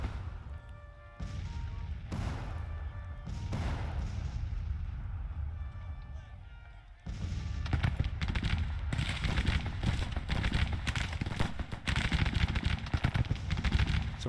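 Civil War battle gunfire in Grand Tactician: The Civil War, with scattered distant shots and booms at first, then a denser, louder rolling crackle of massed musketry with horse hooves mixed in.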